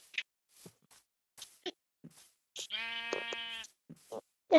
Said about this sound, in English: Let's kill the pink sheep.